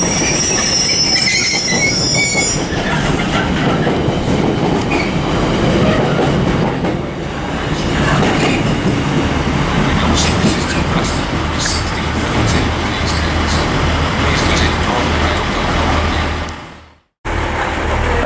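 A TransPennine Express train pulls into Manchester Piccadilly, its wheels squealing loudly and its rumble rolling close by for most of the clip before cutting off abruptly near the end.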